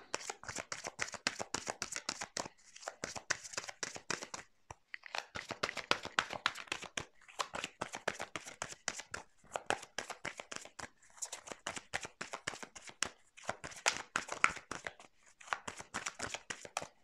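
Tarot cards are shuffled and laid out in quick rustling bursts separated by short pauses, close and fairly quiet, with no voices.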